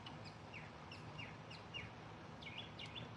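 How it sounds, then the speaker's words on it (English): Birds chirp in short repeated calls over a quiet, damp backdrop just after a heavy rain, heard from a garage, the calls moderately distant and spaced out. "listening to some birds like that after a big rain."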